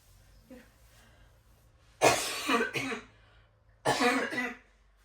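Two separate bursts of coughing, each a rough cluster of a few hacking coughs, close and fairly loud against a quiet room.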